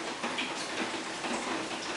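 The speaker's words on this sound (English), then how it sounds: "the rain is quite slow now compared to the way it was this morning last night" Slow rain falling outside near a subway station and pattering on a tarp overhead, a soft, even, steady hiss of drops with no voices.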